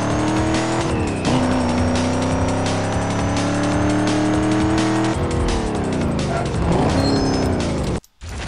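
Game audio from Need for Speed: Most Wanted (2005): a car engine revs hard and loud with shifting pitch, tires squealing through a slide, continuous and close until a brief dropout near the end.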